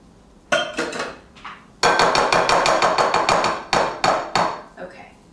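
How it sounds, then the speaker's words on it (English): A spoon scraping thick coconut milk out of a metal can, heard as a run of quick, loud metallic knocks and scrapes in rapid bursts, close up, with no talking. "We'll go right in with our can of coconut milk."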